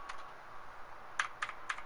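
Computer keyboard keys tapped for a game, faint clicks scattered at first, then three sharper, louder keystrokes in a quick, uneven cluster near the end.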